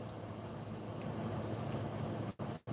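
Crickets chirp in a steady, shrill, unbroken drone outdoors in the morning, with two short dropouts near the end.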